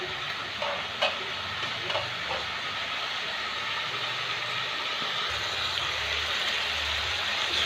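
Chopped tomato frying in a pan with salt and turmeric, a continuous soft sizzle with occasional light stirring clicks, fairly faint and steady.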